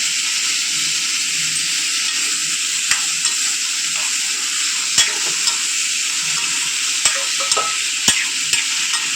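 Tomatoes and garlic sauté in a pan for black urad dal chutney, giving a constant loud sizzling hiss close up, with occasional sharp clicks of a spoon stirring against the pan.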